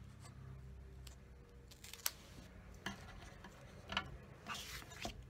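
Scissors cut a small piece of foam tape for a swirls-and-curls birthday card, producing several faint, close snips and light crunches scattered over a quiet room background.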